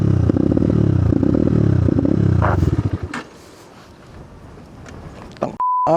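A motorcycle engine sputters and misfires, running in rough, uneven pulses for about three seconds before it cuts out, leaving quiet rustling and a short beep at the end.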